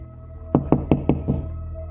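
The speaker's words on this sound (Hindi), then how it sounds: "उसने दरवाजा खटखटाया" Five sharp knocks on a wooden door, evenly spaced and close by, the last one a little softer, with quiet room tone around them.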